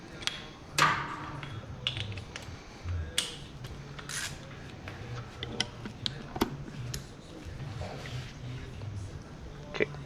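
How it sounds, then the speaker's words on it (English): Torque wrench clicking as bolts are tightened during final assembly of an XR-V 204/110 motorcycle, a few sharp metallic clicks over low workshop noise, fairly close. "Torque wrench has already been set to the required amount of clicks."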